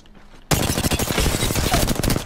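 Rapid automatic gunfire in the shooter video game Apex Legends starts abruptly after a quiet half-second, then continues as a loud, close burst of fast shots.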